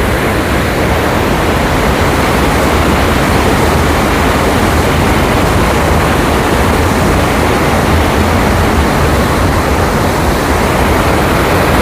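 Water roars out of the five open shutters of Kallarkutty dam, a loud, steady, unbroken rush of heavy torrent close by that fills the whole clip with no pauses.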